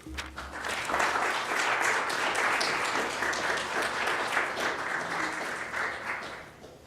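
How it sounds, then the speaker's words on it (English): A lecture audience applauds warmly to welcome a speaker to the stage before a talk on Afghanistan's political economy, a dense, even clapping that holds steady for most of the seven seconds and tapers slightly at the end. "join me in giving a warm round of applause"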